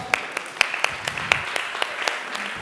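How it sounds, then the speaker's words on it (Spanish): Audience applause after a rhythm clapping game, a short burst of scattered claps at moderate volume, with a voice faintly underneath. "Perfecto, un aplauso."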